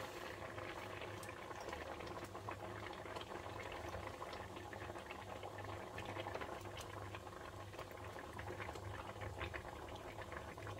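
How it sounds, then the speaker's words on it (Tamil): Fish curry simmers in a pot over a medium flame, a quiet, continuous bubbling boil with soft rattling, steady throughout and fairly faint. "10 நிமிஷம் மிதமான தீயில கொதிச்சாச்சு"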